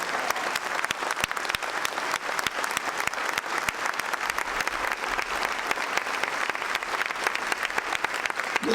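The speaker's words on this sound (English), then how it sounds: "I want you to really clap." A church congregation clapping loudly and steadily for the whole stretch, a thick roar of many hands from a large room with no speech over it.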